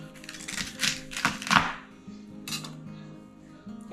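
A knife cuts asparagus spears for home canning, trimming them to length on a cutting board with a handful of crisp, close chops and taps spaced irregularly.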